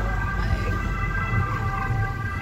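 Siren of an emergency vehicle in an Italian emergency-services video game (118 ambulance and 115 fire service), wailing steadily and loud throughout, mixed with low engine rumble and background game noise.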